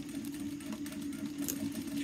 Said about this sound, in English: we're going to top stitch 3/8 of an inch in